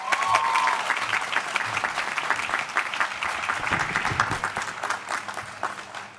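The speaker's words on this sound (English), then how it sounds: "Please join me in giving him a round of applause" Steady applause from a large audience at a law school class day ceremony, dense clapping that fills the clip and stays fairly even before easing slightly at the end.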